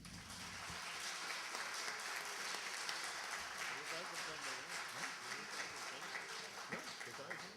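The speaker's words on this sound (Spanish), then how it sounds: "me gustaría pedir un fuerte aplauso a todos los ponentes" Audience applause for the speakers at the close of a sociology forum, broad continuous clapping filling the whole stretch at a fairly distant, even level.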